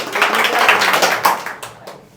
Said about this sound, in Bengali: জোরে হাততালি হবে ওনার জন্য